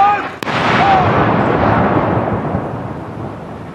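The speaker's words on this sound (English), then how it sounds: "This is called the Death Gun Salute, and it is taking place, as you can see, in every corner of the United Kingdom" A single artillery gun fires in a death gun salute for Queen Elizabeth II, one sharp boom followed by a long rolling echo that fades slowly, loud and outdoors.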